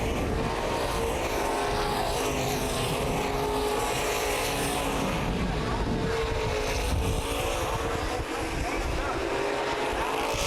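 Stock cars racing at Columbus Motor Speedway, a continuous loud roar of engines from a pack battling for position near the end of a race, under an announcer's commentary.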